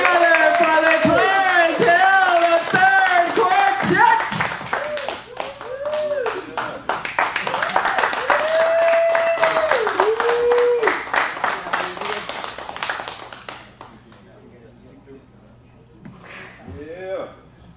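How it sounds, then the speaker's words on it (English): An audience claps along at a live indoor show, its hands striking together in a steady rhythmic beat beneath a voice that sings and talks. The clapping loosens and thins toward the end. "I need you to clap like it's a Saturday night."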